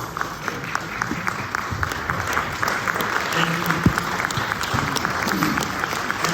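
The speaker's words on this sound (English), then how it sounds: "I'm going to ask them to stand very quick so we can give them a round of applause for" An audience at a museum talk on the Bamum people gives the standing guests a round of applause, a full, steady wash of many clapping hands heard close.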